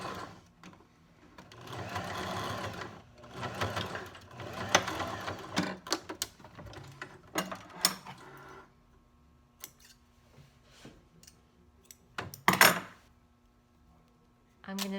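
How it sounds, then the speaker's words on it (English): A sewing machine running zigzag stitches along the original half-inch seam of a pair of sweatpants, several bursts of rapid stitching with pauses and sharp clicks in between, close and fairly quiet. "I'm going to zigzag since I'm right here. And I'm sewing on that original ½ inch seam."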